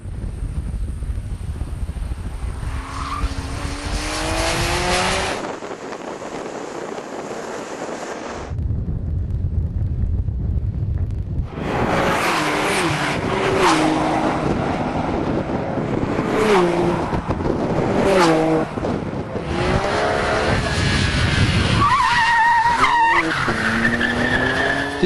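A Nissan Skyline R32 spins out with tires skidding and squealing, the engine revving hard and dropping in bursts, wind buffeting the microphone, loud and close with a brief quieter gap midway.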